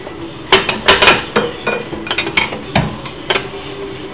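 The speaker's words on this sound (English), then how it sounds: "Okay, now we'll flip the wrench over." Metallic clinks and ratcheting taps from a wrench being worked on a DeLorean speedometer angle drive, coming in irregular quick bursts, close and fairly loud.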